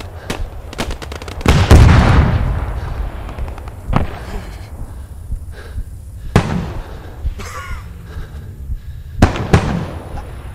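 Gunfire in the WWII shooter Post Scriptum: loud, sharp gunshots and cracks scattered through the battle with distant booms and echoing reports, one heavy burst near the start, and a few more isolated shots later.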